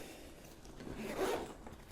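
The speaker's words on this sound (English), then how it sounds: "I've got one of these canvas collapsible ground bait buckets, and they're fantastic for carrying to the water on a short session. Zip lid," A canvas collapsible groundbait bucket has its zip lid drawn closed in one quiet, continuous rasping pull lasting about two seconds, close by and with no talk.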